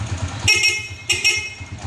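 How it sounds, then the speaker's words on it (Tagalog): A TMX 155 motorcycle horn sounds two short honks close by, each about half a second long, over a low idling engine. "Tapos busina mga sir."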